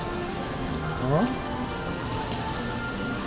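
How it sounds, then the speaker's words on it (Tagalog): Heavy rain falls steadily with dripping water in a constant wash, and a brief voice is heard over it. "Grabe tulo, ulan na gid niya."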